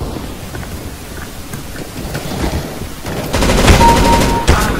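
Rapid bursts of automatic gunfire in the video game CS:GO, quieter scattered shots at first, then a loud sustained volley of fast cracks near the end.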